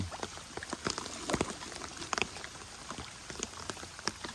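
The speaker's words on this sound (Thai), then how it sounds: "แต่ว่าฝนมันตกนั่นเอง" Light rain falls outdoors near a pond with small fish, a faint steady patter of scattered close drops ticking against surfaces.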